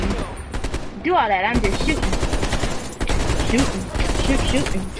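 Enemy gunfire from fast automatic weapons such as AK-47s in the Call of Duty Cold War video game, loud rattling bursts running through the clip while someone talks over them.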